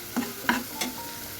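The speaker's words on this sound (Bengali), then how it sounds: "একটু কষিয়ে নিচ্ছি।" Spices with red chili powder and salt being sautéed in a pan, three quick scraping stirs over a soft sizzle, close and brief, with no talk.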